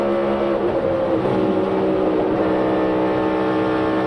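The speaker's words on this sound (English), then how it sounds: "You hear him go back to the gas, saving grace." A NASCAR race car engine drones steadily and then climbs in pitch as the driver gets back on the throttle, heard moderately loud with no talking.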